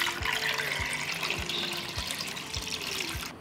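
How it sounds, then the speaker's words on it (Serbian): Water pours steadily into a pot over a batch of raw eggs, a continuous splashing stream with a few soft low knocks of the pot beneath. "Zatim ću sipati vodu"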